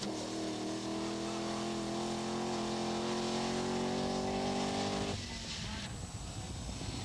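A Range Rover rally car at the 1984 Dubai International Rally, its engine droning steadily with a rising pitch as it drives, then abruptly dropping to a rougher, lower rumble near the end.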